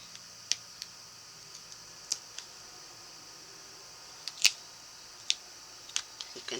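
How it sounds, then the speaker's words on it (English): Sheets of Tyvek paper give off sparse, sharp little crackles and ticks as they strain against tearing, faint isolated snaps scattered irregularly over a quiet background. "You can hear the paper trying to tear."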